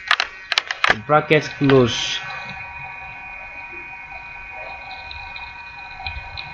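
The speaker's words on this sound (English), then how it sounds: "I'll just press my control, then a kind of bracket close" Computer keyboard shortcut, Control plus close bracket, pressed during design work: a few crisp, close key clicks at the start, then a person talking briefly, with a steady electronic hum running under everything.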